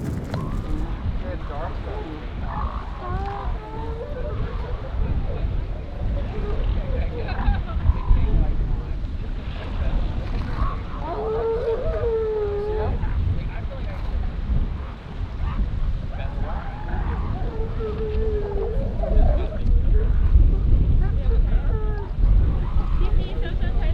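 Elephant seals at Point Reyes call from the beach below an overlook, sending up deep, guttural croaking bursts at a distance, mixed with wind buffeting and some talking nearby.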